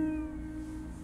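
A cat meows in the Copycat video game, a single drawn-out tonal cry that falls slightly in pitch, close and clear over a low steady background hum.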